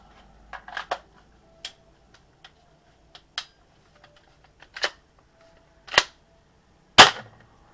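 A BB gun fires into a box: a run of sharp, snappy pops, sparse and irregular at first, then louder, cracking shots near the end.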